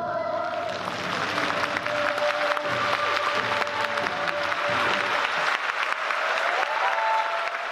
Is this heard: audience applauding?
yes